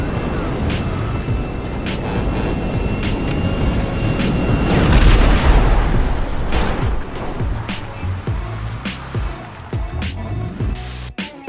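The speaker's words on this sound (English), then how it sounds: "Had the honor of experiencing an orbital cannon strike up close." A heavy rumbling blast from an orbital cannon strike in GTA Online swells to a loud booming peak midway, then fades into crackling debris and scattered pops.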